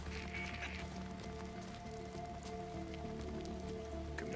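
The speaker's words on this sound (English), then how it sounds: "It started raining." Steady rain falling in the open-world zombie game Days Gone, a dense continuous patter on surfaces that runs the whole time at moderate level beneath a low ambient hum.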